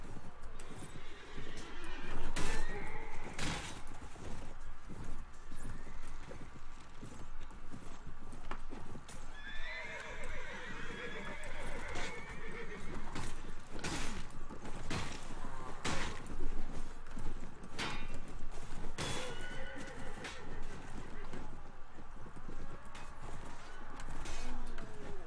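Horses gallop with a steady, busy clip-clop of hooves and repeated neighs and whinnies throughout a battle in the Mount & Blade video game, with the Floris mod, over a dense layer of background clatter.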